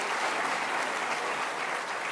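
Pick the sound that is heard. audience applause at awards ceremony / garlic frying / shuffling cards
audience applause at awards ceremony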